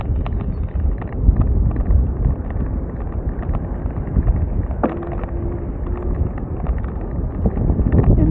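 Strong wind buffets the microphone on an open, windswept road through farm and dairy country, a steady low roar with gusty surges throughout and no voices.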